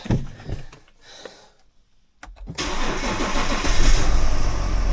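A car engine is cranked and fires up after a short quiet gap, catching with a loud rise and settling into a close, steady idle.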